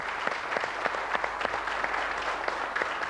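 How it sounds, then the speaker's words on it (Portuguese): A studio audience on the Portuguese television show SIC 10 horas claps in sustained, even applause that fills the whole moment without a break. "Quero uma salva de palmas."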